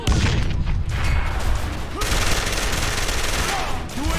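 Low-tier SMG fire in the shooter Call of Juarez: The Cartel, a dense, loud, continuous burst of rapid gunshots with heavy low-end thump and no break across the stretch.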